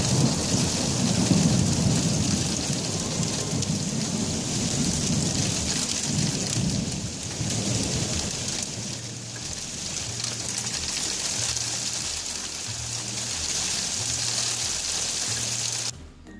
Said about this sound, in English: Last night though, it started really intense hail, and I put the camera on and I got this footage.